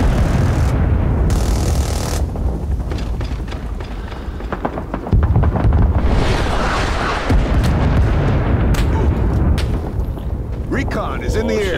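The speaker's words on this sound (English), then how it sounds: "Good airstrike." Heavy rumbling airstrike explosions and booming gunfire in the Vietnam War shooter Rising Storm 2: Vietnam, a loud continuous barrage with bursts and crackle, while people talk over the din.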